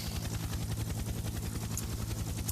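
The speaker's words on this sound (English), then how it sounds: "And, of course, the appropriate helicopter noise as well." Helicopter rotor noise piped into the RGT virtual bike race video game, a steady rapid chop that thrums on without a break, moderately loud, with no one speaking over it.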